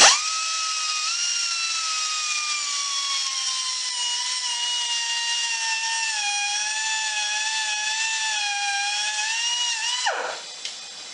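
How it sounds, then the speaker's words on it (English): A small grinder fitted with a cutting wheel whines steadily and high-pitched for about ten seconds while recutting threads, its pitch dipping slightly under load before it cuts off and winds down. "See, I've got a little grinder with a cutting wheel on it."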